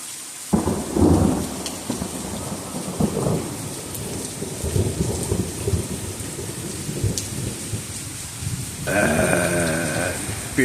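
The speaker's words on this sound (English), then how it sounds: "Rizzy, lightning is striking everywhere." A thunderstorm with heavy rain pours steadily throughout, with rumbling thunder rolling in the background and a sharper crack near the end.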